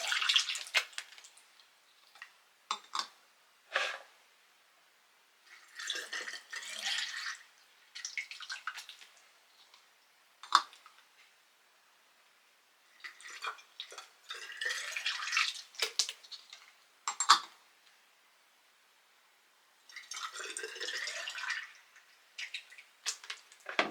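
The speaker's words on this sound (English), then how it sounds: "Yep, I'm getting water everywhere." Water dripping and splashing in irregular bursts while making rustic barnwood plant holders for plant propagation, close wet spatters separated by quiet gaps, no talk.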